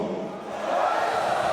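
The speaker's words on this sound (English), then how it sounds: "The crowd counts us in." A stadium crowd at an esports match, the IEM Rio Major 2022 in Rio, roars as one in a steady, swelling wall of voices that builds louder near the end, with no distinct words heard.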